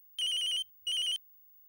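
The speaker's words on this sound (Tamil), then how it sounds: "அம்மா தான் ஃபோன் பண்றாங்க. ஒரு நிமிஷம்." A mobile phone ringtone sounds in a Tamil TV serial: two clear, bright electronic bursts of warbling ringing separated by a brief gap, close and alone against silence.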